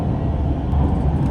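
The Shiokaze limited express, a tilting train, pulls out of Kojima Station with a loud, steady low rumble of motors and wheels, heard from on board without talk.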